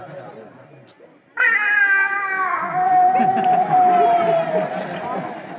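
A person mimics a cat's meow in a long, wavering cry that starts abruptly after a quiet moment and holds steady at close range.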